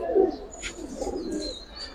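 Giribaz and coloured pigeons give a soft, close cooing burst followed by a quieter low murmur, with faint higher chirps above.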